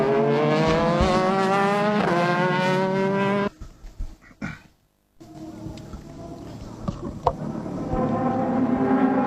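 A number 23 Nissan Super GT race car enters the pits at Autopolis. Its loud, high engine whine is followed by a sudden cut to quieter revving, a brief near-silence, and then rising engine noise again.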